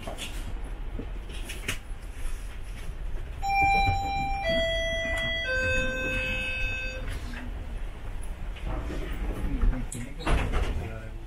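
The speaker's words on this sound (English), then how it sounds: "Doors are closing" Commuter train at a GO Transit and Via Rail station, a descending multi-tone door chime sounding clearly over a hum of platform and carriage noise, followed by the rumble and thud of doors closing.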